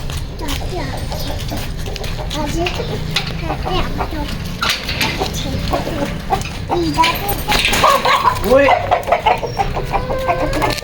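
Hens cluck steadily up close, with a busy barnyard clatter and someone talking over them throughout.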